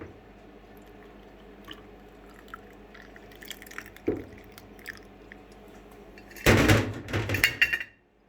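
Lemon juice poured into a jar of garlic: soft squishy, wet handling sounds, then a louder burst of liquid splashing and gurgling near the end, with no talk.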